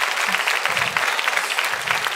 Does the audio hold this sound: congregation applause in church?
yes